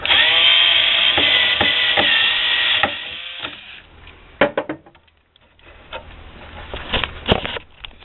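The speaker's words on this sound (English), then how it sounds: "I'm just removing the heatsink fan" Heatsink fan being removed from a processor in a Dell computer, with a whirring fan spinning down, then scattered clicks, clunks and scraping plastic sounds close by, no talking.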